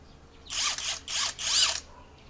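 A handheld electric drill whirs in three short bursts of rising and falling speed, close and fairly loud, with brief pauses between them and no talking.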